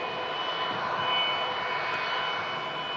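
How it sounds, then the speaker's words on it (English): An Etihad airliner taxiing out at Manchester Airport, its jet engines giving a steady, even whine and rumble at moderate distance, with no voices over it. "Etihad Green Line livery taxiing out."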